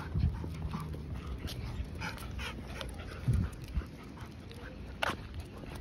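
Labrador Retrievers out on a walk, agitated at another dog's approach, pant and shuffle nearby with faint whimpering over steady outdoor background noise, with a few sharper bumps breaking through.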